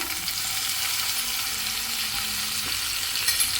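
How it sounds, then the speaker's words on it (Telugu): Tomatoes frying in hot oil for a coriander-tomato chutney, a steady, dense sizzle that holds evenly throughout with no talking. "ఇవి ఆయిల్ హీట్ ఎక్కింది ఇందులో టమాటా వేసేసుకుంటున్నాము"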